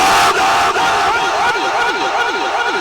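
A large crowd at a Friday sermon at a dargah chants religious slogans in loud unison, massed voices roaring together in repeated surging calls that fill the space.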